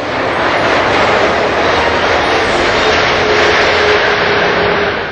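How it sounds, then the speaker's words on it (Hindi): An Airbus A380 super jumbo jet with four engines gives a loud, continuous broadband roar that stays steady and dense throughout, with no voices. "दुनिया का ये दूसरा सबसे बड़ा जंबो जेट"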